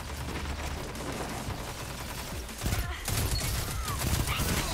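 Sniper rifle fire in the video game Destiny 2 using the Maxim sniper, with loud dense bursts of shots and mechanical clatter running nonstop throughout, heavier near the end.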